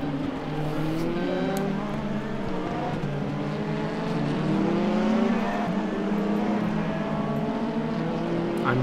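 Engine of a BMW race car in a sim racing game, a steady loud droning with harmonic whine that rises and falls through gear changes, continuous throughout with no talk.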